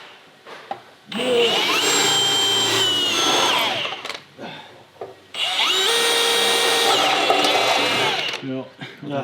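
A power drill runs in two long bursts, loud and close, with a whining motor and grinding as it bores through car parts for a nut, a brief pause between them.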